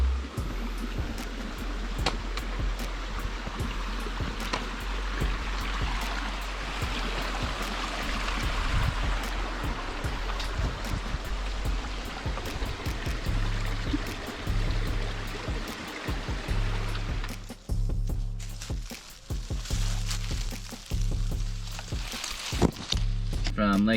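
A creek near Lake Eileen in the Colorado wilderness runs as a continuous rushing flow, with footsteps and bursts of talk over the water.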